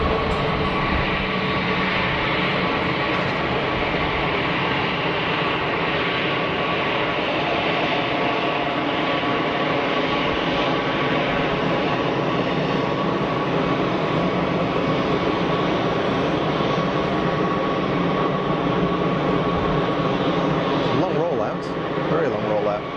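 A KLM Airbus A320neo airliner at Geneva Airport makes a steady, loud engine roar that holds for the whole stretch, with talking over it.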